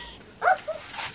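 A dog gives a short yip or bark followed by a softer second yelp, both close and brief in a quiet room.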